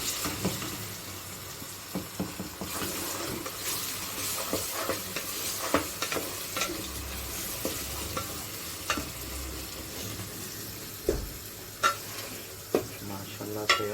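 Ginger and garlic fry in a biryani pot with a continuous sizzle, broken by frequent clinks and scrapes of a spoon stirring against the metal.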